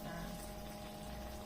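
Hot oil ladled over Javanese fritter (kuih penyaram/cucur Jawa) batter frying in a pan, giving a steady, continuous sizzle and bubbling hiss at close range with no pauses.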